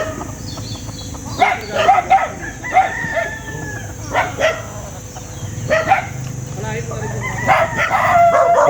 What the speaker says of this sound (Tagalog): Ayun po mga manok na dito.